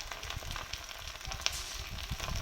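Halved dried red chillies and a sprig of curry leaves fry in hot oil for Kerala-style beef kondattam, a close, steady crackling sizzle with small popping bursts throughout.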